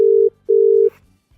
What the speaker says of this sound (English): let's make a few more phone calls